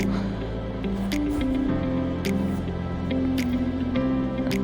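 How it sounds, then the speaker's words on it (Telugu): Half a glass of water poured into a pot of mango dal (mamidikaya pappu): soft squishy, dripping liquid sounds that continue steadily under background music. "ఒక హాఫ్ గ్లాస్ వాటర్ కూడా పోసుకుంటాను"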